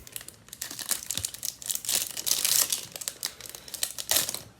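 Foil wrapping on a Wild Card mat pack of trading cards is torn open and crinkled close up, in quiet bursts of crackling and tearing with no talking.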